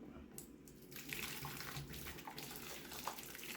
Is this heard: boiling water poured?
yes